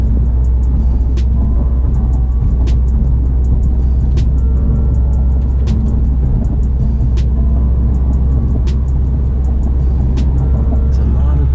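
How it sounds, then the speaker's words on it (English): A 2019 Subaru WRX STI with its boxer engine drones low and steady while driving in traffic, a constant deep rumble with road noise and faint periodic clicks underneath. "B4 boxer engine, I think it's worth it."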